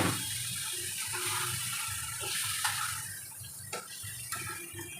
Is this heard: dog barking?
no